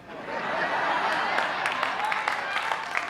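An audience in a hall claps through a steady patch of applause, a dense wash of hands with a few sharper claps standing out, and scattered chuckles and voices mixed in.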